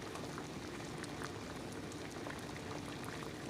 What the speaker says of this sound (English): let it boil for a minute or two